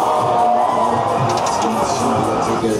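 Fairground crowd by the XXL Krake ride at the Neugersdorf Jacobi fair, loud steady cheering and shouting with children's voices, continuous and close throughout.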